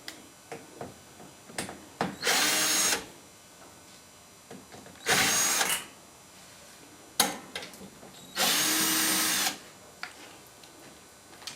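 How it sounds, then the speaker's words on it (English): A power drill undoing the two screws on a Whirlpool Diplomat dishwasher base, three whirring bursts of about a second each, close and fairly loud, separated by quieter clicks and handling knocks. "To remove the base, it's just 2 screws, and undo those."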